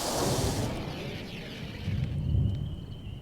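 Thunder rumbles low and deep, rolling in two swells during a rainstorm, with a faint bird call near the end.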